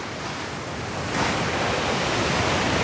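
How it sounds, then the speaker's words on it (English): Big Indian Ocean waves crash onto a black, rocky, porous young lava coast on Réunion Island, a loud, steady roar of surf that swells louder partway through, with some wind. "waves crashing onto a black, rocky lava coast. Whew, big waves."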